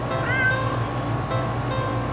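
A video game cat gives a clear, drawn-out meow over a steady low hum of background music.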